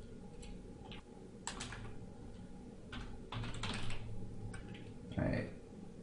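Fingers typing on a computer keyboard at close range, with irregular bursts of key clicks over a steady background hum.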